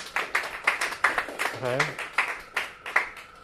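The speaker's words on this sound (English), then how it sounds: "Let's give him a round of applause." An audience at a Eurorack and reverb workshop claps for a performer, a small group giving loose, steady applause close by while someone briefly speaks over it.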